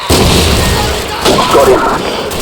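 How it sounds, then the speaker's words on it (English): A grenade explodes in Call of Duty 4: Modern Warfare, a loud booming blast followed by rumbling gunfire-like bursts, with a voice speaking over it. "Look out! Grenade!"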